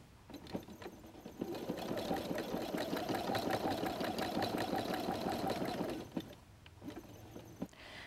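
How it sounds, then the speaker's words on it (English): A sewing machine stitching across a messenger bag seam, its motor whirring in a steady rapid rattle for about five seconds before stopping, with a few softer clicks around it. "we're going to sew across about three more times"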